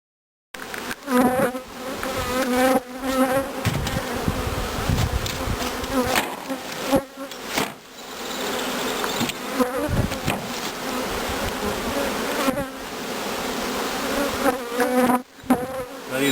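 Dense, steady buzzing of many honey bees swarming close by at a queen-rearing starter colony, a continuous droning hum with no pauses.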